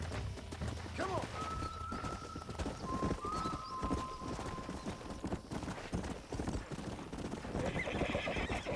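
A horse in Red Dead Redemption whinnies loudly near the start while hooves clip-clop steadily throughout, with a faint voice speaking partway through and some rustling ambience around them.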